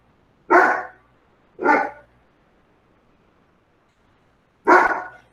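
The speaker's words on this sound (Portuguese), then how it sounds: "Como esse cachorro é bravo." Three loud, sharp barks from a single dog, close by, with two in quick succession and a third after a pause of a few seconds, against otherwise quiet surroundings.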